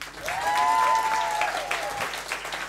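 Applause from a live audience for an R&B band, a steady wash of clapping with a faint sustained tone over it, rising briefly and then thinning slightly toward the end.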